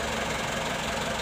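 A Mitsubishi Canter truck engine runs steadily with a rough, knocking mechanical rumble, close and continuous with no voices.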